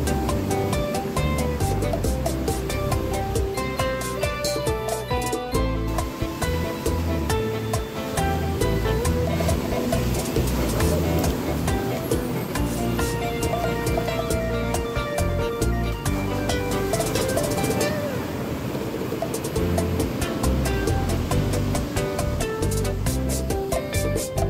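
Sea waves at Playa El Valle beach in the Dominican Republic, beside a freshwater spring and river outlet meeting the sea, with loud continuous surf washing and crashing close by, no talk.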